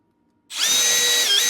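A power drill starts abruptly and runs at a steady high whine, driving a screw into a wooden birdhouse kit, loud and close with no voices.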